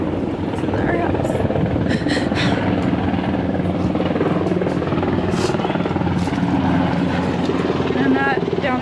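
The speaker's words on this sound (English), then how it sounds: "Helicopters." Helicopters flying overhead above a tornado-damaged neighborhood in southwest Joplin, a steady rotor drone filling the whole stretch, with a person speaking over it.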